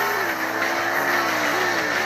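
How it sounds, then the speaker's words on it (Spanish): A car accelerating hard from 0 to 100 during a driving test, its engine drone rising steadily in pitch, loud and close, with no talk. "Vamos a hacer primero los acelerones"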